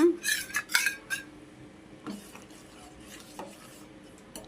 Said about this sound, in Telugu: ఇక్కడ రెండు నిమిషాలు దీన్ని ఇలా స్టవ్ పైన పెట్టేసి కలుపుతూ ఉండాలి